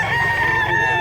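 A rooster crows once at a live poultry market, a loud, close, sustained call lasting about a second with no voices over it.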